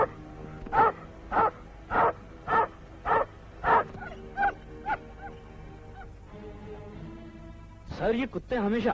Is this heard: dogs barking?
yes